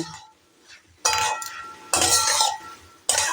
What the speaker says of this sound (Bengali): ঘিটা দিয়ে এবার সুন্দর করে নাড়াচাড়া করে দেব